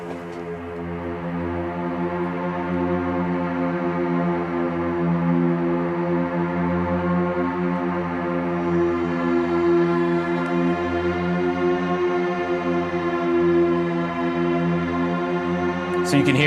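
A long sustained synthesized tone from the Warframe soundtrack whose pitch slowly wavers up and down, eerie and droning, steady in loudness throughout.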